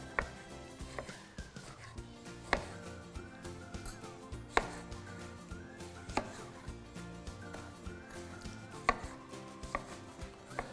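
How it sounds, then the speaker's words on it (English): A knife chopping seeded tomatoes on a cutting board in a teaching kitchen, a run of quiet, irregular thuds over a soft musical background, no talk. "We want to dice these tomatoes"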